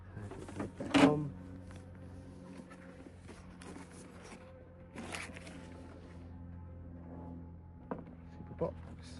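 A wooden beehive lid is set back on the box with a sharp knock near the start, then a softer thud and small shuffling handling sounds over a faint background hum.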